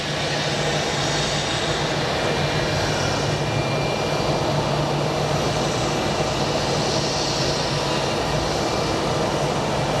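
CRJ700 regional jet parked at a gate at Sky Harbor International Airport, with a loud, steady engine whine and broadband roar holding constant throughout, no talking.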